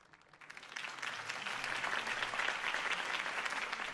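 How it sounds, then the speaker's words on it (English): Crowd applause at a political campaign speech in the Batman Telltale Series video game, rising quickly from quiet into steady dense clapping that stays fairly loud and even to the end. "could have heard that applause"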